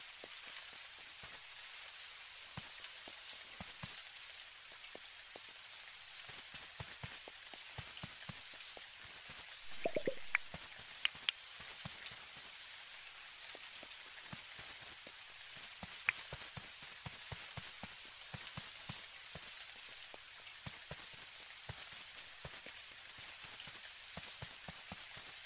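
Steady rain hisses on surfaces at night in the video game Dinkum, a soft, even patter with scattered droplet ticks, faint and continuous with no voices.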